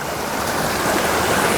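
Waterfall heard from up close as a loud, steady, broadband rush of falling water that fills the whole moment without a break.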